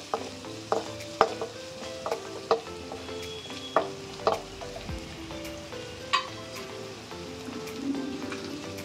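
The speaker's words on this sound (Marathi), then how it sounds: "त्याच्यामध्ये आता आपण लसूण टाकूया, कारण आपण गार्लिक नूडल्स बनवतोय" Garlic fries in hot oil in a pan for garlic noodles, a steady crackling sizzle punctuated by sharp clicks and taps of stirring, close and moderately loud, with no speech.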